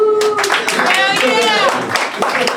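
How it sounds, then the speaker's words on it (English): Audience clapping at a live writing and spoken-word session, a burst of hand claps mixed with cheering voices and whoops, close and lively over about two seconds. "Give your mind a round of applause."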